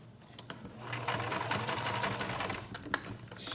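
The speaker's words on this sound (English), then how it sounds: "Sew back stitch." Sewing machine running a back stitch on fabric with an elastic band, a steady close mechanical whirr with a rapid needle clatter lasting a few seconds, no talk.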